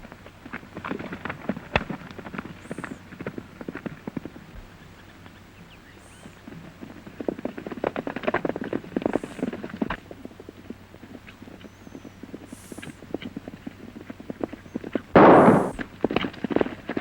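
Horse hooves clip-clop through a scene in a 1934 western film, steady hoofbeats at moderate distance with a sharp burst near the end, no speech over them.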